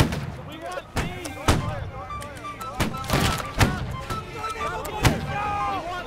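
Musket fire in the video game Holdfast: Nations at War, a string of sharp gunshots spread irregularly across the moment over busy battlefield noise, with voices shouting in the mix.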